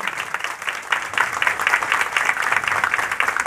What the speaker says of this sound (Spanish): Brindémosle un fuerte aplauso a nuestros adultos mayores.